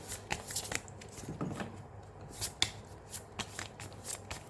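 Tarot cards are shuffled by hand in quick, soft riffling bursts, close and fairly quiet, with no talking.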